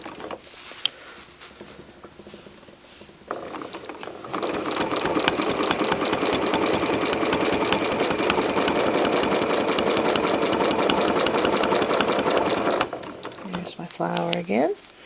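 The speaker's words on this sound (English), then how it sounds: "Stitching around the edge." A sewing machine stitches around the edge of an appliqué in a crosshatch pattern, running in one loud, steady, rapid burst for about nine seconds after some quieter handling noise, then stopping before a brief voice at the end.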